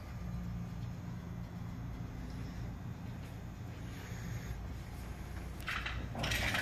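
A 2014 Volkswagen Passat 1.8 Turbo engine idling after an oil change, a quiet, steady low hum running continuously without speech.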